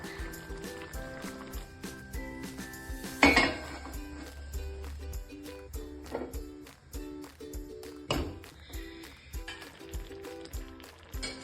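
A metal tawa is set under a cooking pot of donne biryani on a gas stove, giving one sharp metallic clank near the middle amid lighter clinks and scrapes of kitchen utensils, with no talking.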